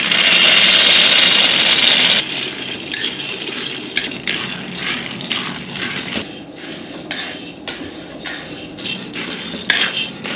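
Raw peanuts tossed and stirred in a dry wok for groundnut chikki, with a steady hiss and rustle and repeated scraping, clattering strokes of a spoon against the metal pan, close and with no talking.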